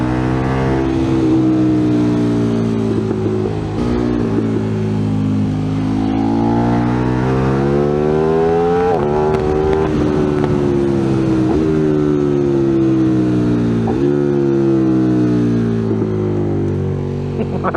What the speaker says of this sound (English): Oh, the noise of this bike is utterly orgasmic.